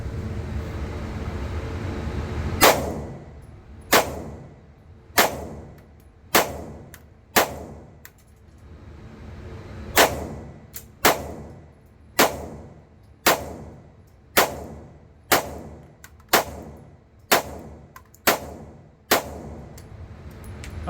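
Sixteen sharp shots from a Sig Sauer P365 X Macro pistol, fired one by one at a steady pace with a short pause after the first six, each a loud crack with a quick fading tail.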